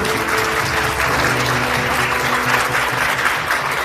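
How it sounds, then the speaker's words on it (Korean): A conference audience applauds to welcome a professor giving the keynote, with loud, dense clapping sustained evenly throughout and no voices over it. "큰 박수로 이재열 교수님을 맞이해 주시죠."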